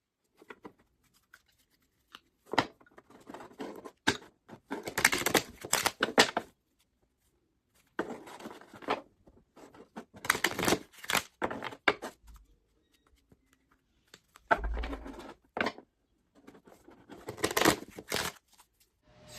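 Tarot cards are shuffled and pulled in several bursts of riffling and flicking, close and crisp, separated by quiet pauses.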